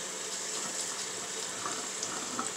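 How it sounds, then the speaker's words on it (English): Tap water runs steadily while white rice is rinsed in a sink, a continuous soft hiss and splash with a few faint spatters, with no one talking. "you just want to make sure that you rinse it out to get anything potentially harmful out of there."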